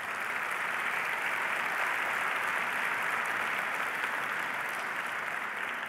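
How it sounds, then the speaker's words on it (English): Conference audience at an evening session applauding event sponsors, steady continuous clapping from a large crowd, even and sustained throughout without breaks. "So can we give them a huge round of applause for Levitate"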